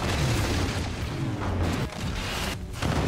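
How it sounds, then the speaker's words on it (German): A loud, rumbling explosion in the video game Forts fills the clip, with broad roaring noise and a few heavy booms and cracks, no voices. "Shit ist explodiert."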